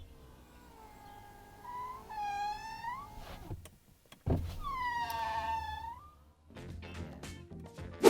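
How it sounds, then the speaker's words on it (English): Power window motor on a brand new Ferrari Roma whining as the glass travels up and down, two rising-and-falling strained cycles close by, separated by a short thump and a pause, with no talking. "it makes this noise when you put the window up and down"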